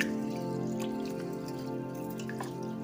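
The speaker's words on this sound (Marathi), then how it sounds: "हे बघा असे तांदूळ घेऊन हातावर असे चोळून घ्यायचे" Rice grains rubbed by hand in a bowl of water, giving soft continuous wet swishing with small drips and splashes, steady and close, with no talking.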